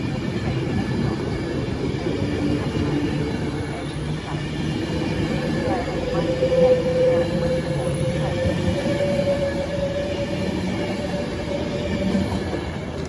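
A train pulls into a platform at Milton Keynes Central on the West Coast Main Line, its steady rolling rumble joined by a brief wheel squeal midway, heard amid open station ambience.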